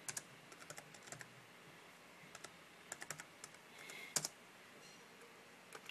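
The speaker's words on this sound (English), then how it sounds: "on the search bar I'm gonna type" Typing on a computer keyboard into a search bar, quiet and close, with scattered quick clicks of keys in short irregular bursts.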